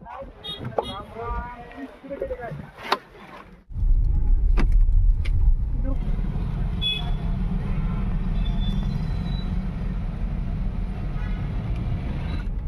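A car on the road to a temple in Sinnar, Maharashtra, gives a steady, loud rumble of engine and road noise that sets in abruptly after a few seconds of talking and carries on unbroken.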